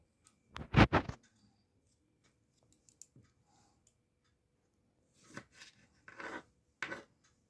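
A knife slicing fresh tomatoes into wedges on a kitchen board makes a few soft, close cutting and rasping strokes in short separate bursts, with quiet pauses between them.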